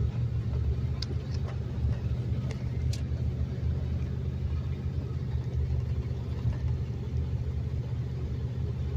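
Steady low engine rumble and road noise from inside a car driving on blacktop near an old Michigan dam, continuous and close throughout with no talking.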